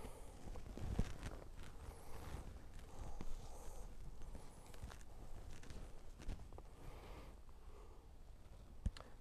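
A horse's hooves walking on an arena surface during groundwork with a young filly, soft irregular thuds continuing steadily at moderate distance with no speech.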